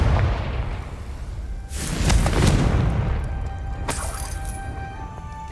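A Confringo fire spell blasts in Hogwarts Legacy, a loud booming explosion with a rushing crackle that swells and fades, followed by a sharper second burst and lingering rumble.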